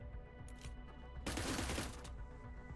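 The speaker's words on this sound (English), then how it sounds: "people are going to hear the gunfire and be angry about it" Video game gunfire in the Cyber Knights: Flashpoint tactical game: a short burst of rapid, loud shots lasting under a second, preceded by a brief softer crackle over steady background ambience.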